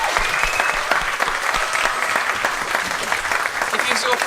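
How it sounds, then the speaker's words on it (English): Sustained applause from an audience at a community storytelling gathering, a dense steady patter of many clapping hands filling the space, loud and continuous throughout with some chatter mixed in. "Big round of applause for everyone who shared stories today."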